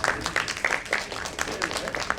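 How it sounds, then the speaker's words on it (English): Applause from a conference panel audience, a scattered patter of hands clapping at moderate distance with a voice talking over it. "you deserve a big round of applause"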